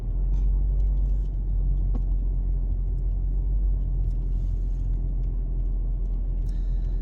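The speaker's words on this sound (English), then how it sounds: "I'm going to be stuck in traffic. It's backed all the way to here." Car engine idling while stuck in a backed-up traffic jam, a steady loud low rumble heard from inside the vehicle, with faint small clicks and jingles on top and no talk.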